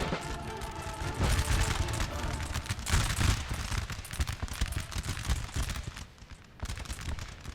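Musket volleys in Napoleon Total War ring out as dense, crackling rolls of gunfire, with several loud bursts in succession and distant booms beneath a busy battlefield din.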